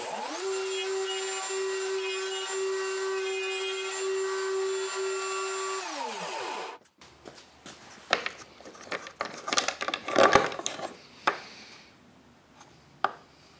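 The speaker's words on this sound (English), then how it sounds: "I should be good to cut my slot." Shop-made slot mortiser cutting a slot in wood: a steady whining motor drone for about six seconds cuts off, then irregular knocks, scrapes and rattles of wood and tool handling.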